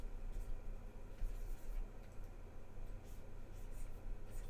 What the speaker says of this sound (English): So I'm just sketching this in here.